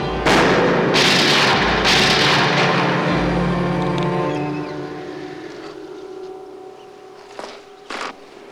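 Several loud gunshots fired at a target ring out in quick succession near the start, each booming blast trailing into a long echoing decay that fades over several seconds, followed by two fainter sharp reports near the end.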